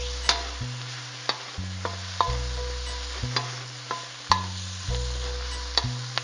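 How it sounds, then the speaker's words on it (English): Vegetables stir-fried in a hot pan and stirred constantly, the sizzle broken by repeated sharp scrapes and clanks of the utensil against the pan at a steady rhythm, close and alone with no talk. "Once you see a significant amount of char going on, give it another 30 seconds, stirring constantly."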